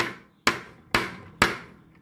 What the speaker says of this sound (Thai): การตอกตะปูตัวใหญ่ใส่ไม้